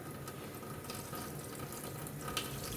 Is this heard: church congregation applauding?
no